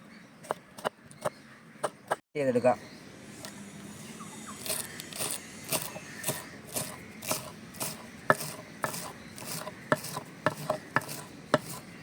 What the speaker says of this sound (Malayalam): ഇനി നമുക്ക് വെളുത്തുള്ളി കട്ട് ചെയ്യാം